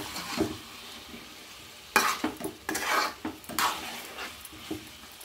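Ginger-garlic paste frying in a pan for a radish chicken curry, a soft sizzle under bursts of scraping as a spoon stirs it, with a few clinks against the pan.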